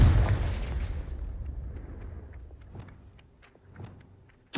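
Confringo fire spell explosion in Hogwarts Legacy, a loud booming blast that rolls off into a long decaying rumble with scattered small pops, then a sharp new hit at the end.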